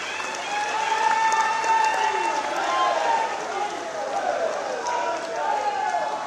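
An audience claps to thank the ministers at a political gathering, a sustained wash of applause running for several seconds while a voice carries on over it.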